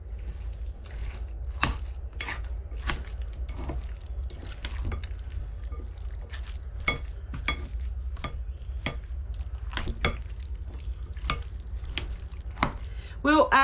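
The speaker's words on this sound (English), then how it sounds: "I'm just mixing this all up ahead of time." Canned cheese sauce being mixed in a pot, a spoon scraping and clicking against the metal in irregular taps over a low steady background hum, with no talk.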